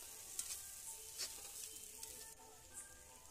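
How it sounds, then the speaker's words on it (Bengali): Capsicum stir-fried in a pan with spices: a soft, steady sizzle with light scraping stirs and a few brief clicks, quiet and with no voices. "আরও কিছুক্ষণ ভালো মতো ভেজে নিয়ে এইভাবে আমি নেড়ে চেড়ে সবগুলো ভেজে নেব।"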